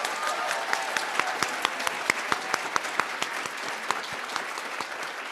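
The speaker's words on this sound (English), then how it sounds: "give our elementary education candidates a round of applause" A seated audience at a spring 2022 education pinning ceremony applauds elementary education candidates, with steady, distinct hand claps from a modest crowd for a few seconds.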